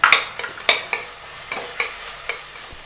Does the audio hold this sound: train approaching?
no